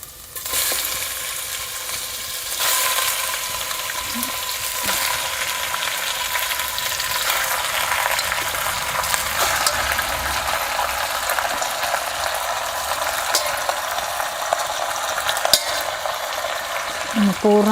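Two kilos of chicken sizzle in a spiced tempering of sautéed ginger and garlic over a wood-fired clay stove for Kolhapuri chicken, with a steady crackle and scraping stirs clicking against the pot throughout.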